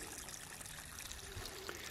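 Sediment-laden stream water gurgles along over thawing, snowmelt-soaked ground, a faint, steady trickle and burble running continuously without pause.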